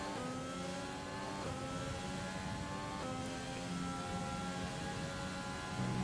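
An F1 car engine in the racing game F1 2020 screams through its gears, each upshift cutting the rising whine before it climbs again, loud and continuous with no talk.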